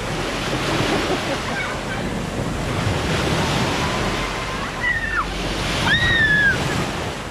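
Sea waves wash steadily onto a swimming beach on a nice day, with wind buffeting the microphone and a couple of faint, distant high-pitched calls or whistles near the end.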